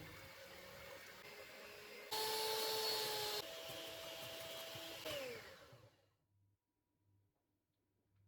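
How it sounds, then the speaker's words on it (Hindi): An electric whisk whips cream with condensed milk toward soft peaks, a steady motor whine that jumps in pitch and loudness when the speed changes, then winds down and stops, leaving near silence. "इसको सॉफ्ट पीक्स बनने तक व्हिप करेंगे।"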